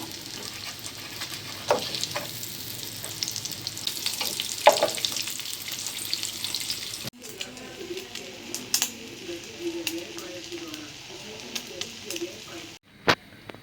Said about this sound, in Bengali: আমরা ডিমটাকে এভাবে সুন্দর করে ভেজে নিব